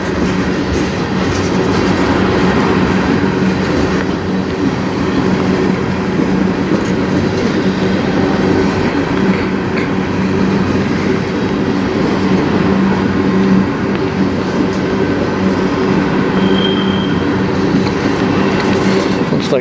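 A long CN freight train rumbles past on the Strathroy Subdivision, with steady clickety-clack from the wheels and a continuous heavy roar, loud and close throughout, with faint speech briefly under it.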